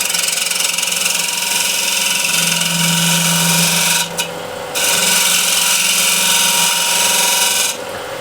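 Osage orange bowl, 11 inches across, spins on a wood lathe at about 1300 RPM while a ball gouge cuts the rim, giving a loud continuous scraping rasp that breaks off briefly twice.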